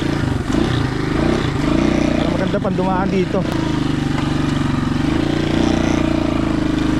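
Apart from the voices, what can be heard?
XLR200 motorcycle engine riding through mud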